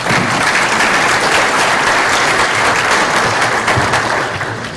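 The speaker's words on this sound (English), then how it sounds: "let's give them a round of applause" An audience at a seminar on financing new or used homes breaks into loud, sustained applause that stays full and even throughout, with no other sound on top.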